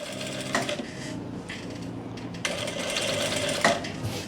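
A sewing machine runs in short bursts while stitching a pocket on a circular plazo, its rapid mechanical clatter stopping and restarting several times at close range.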